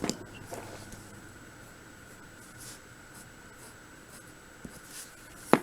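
A marker scratches steadily across paper while shading a drawing of a red truck with a tree in light and medium gray, a faint continuous rasp with a couple of sharper taps near the start and end.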